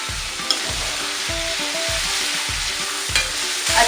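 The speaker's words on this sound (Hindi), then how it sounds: "अब हम इसमें ऐड करेंगे ऑनियन जो हमने चॉप करके रखा हुआ है और इसको गोल्डन ब्राउन होने तक भूनेंगे" Chopped onion fries in a pan for rajma masala gravy, a continuous loud sizzle with rhythmic scraping strokes of a spoon stirring it roughly twice a second, close and without voices.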